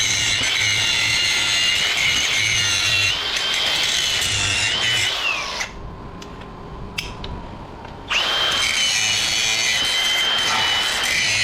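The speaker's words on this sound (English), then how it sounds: "I'll try to grind that back a little bit." A cutoff wheel grinds metal on an alternator in a loud, continuous rasping screech, easing off briefly in the middle before biting in again, with no talk.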